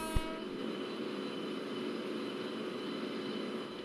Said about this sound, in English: We can see that Sataragachi VAP 7 locomotive which is slowly departing